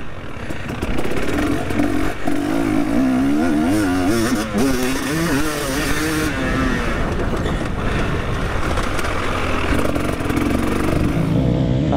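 A motocross motorcycle accelerates hard on a track, its engine loudly revving up through the gears with rising pitch sweeps and shifts, close and dominant throughout.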